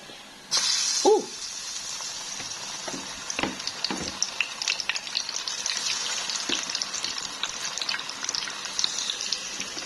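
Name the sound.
tempeh frying in oil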